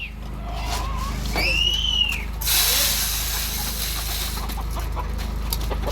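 Chickens cluck and squawk nearby while eating grain, over a low hum, with a few sharp calls and a brief burst of rustling noise.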